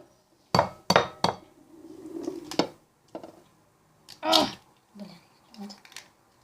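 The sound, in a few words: cracking two eggs into a bowl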